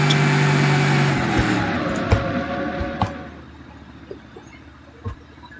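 A car in BeamNG Drive drifts, its engine droning loudly at first, then fading and winding down while sharp thuds and knocks punctuate the tail end.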